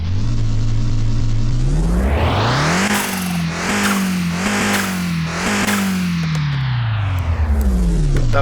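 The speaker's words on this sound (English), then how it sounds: "That blow-off valve sounds great" Nissan Silvia fitted with a blow-off valve in the game Car Mechanic Simulator 21: a loud, close engine rising and revving repeatedly, with short breathy bursts between revs before settling back down, no talking.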